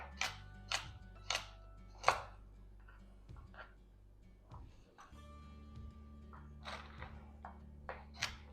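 Carrots being chopped with a knife on a board for a slow cooker dish, a handful of sharp, separate cuts spaced irregularly, quiet and close, over a low steady background hum.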